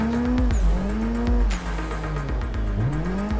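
Tires squealing as a car drifts sideways in Assetto Corsa, a loud close engine howl rising and falling with revs, overlaid by sustained screeching skids and brief bursts of wheelspin.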